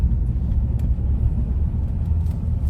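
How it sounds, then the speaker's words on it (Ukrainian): A car moves off gently on a snowy road during a driving test route, with a low, steady engine rumble heard from inside the cabin, muffled and continuous. "така засніжена дорога, і треба акуратно рушати, щоб ви не перебуксували"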